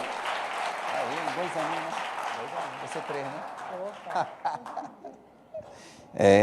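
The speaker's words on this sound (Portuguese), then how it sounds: "Vamos aplaudir Jesus?" A church congregation at a Sunday celebration service claps for Jesus as a steady wash of applause under a voice, thinning out toward the end.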